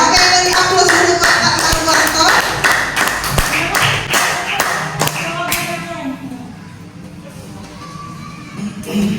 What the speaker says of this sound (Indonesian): beri aplaus untuk Pak Hartanto